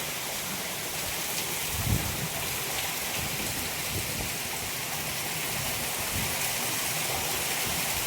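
Heavy rain pouring down in Porbandar, a dense, steady hiss of drops hitting surfaces that fills the whole stretch without pause, with a few faint low thumps mixed in.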